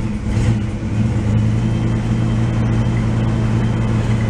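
A 1986 Oldsmobile Cutlass engine runs loud and close after starting, holding a steady throaty rumble with a slight swell in revs early on.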